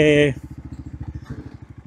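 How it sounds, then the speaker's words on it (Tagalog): A motorcycle chugs at low speed along a rough road toward a nature camp, its pulsing engine beat steady and close; a person speaks briefly at the start before the engine carries on alone. "Tama lang pala na ito yung motor na dinala natin, no?"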